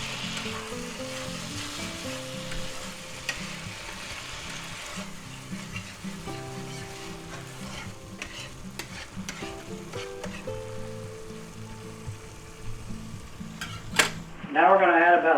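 Chicken broth poured into a hot pan, bubbling and sizzling steadily for over ten seconds with light stirring clinks, close and continuous, before a voice cuts in at the end.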